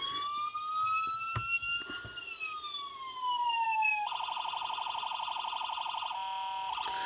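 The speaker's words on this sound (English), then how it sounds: "The siren itself, again, is just Evan Designs 4-tone siren kit." Electronic siren from an Evan Designs 4-tone siren kit fitted to a custom West Virginia State Police utility diecast model, sweeping wail tones that switch partway to a rapid yelp-like warble, loud and close with no talking.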